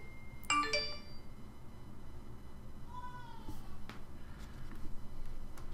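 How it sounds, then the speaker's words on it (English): A short cell phone notification bing rings out as a bright chime near the start, followed later by a softer tonal blip over quiet room noise. "Pardon my little cell phone bing."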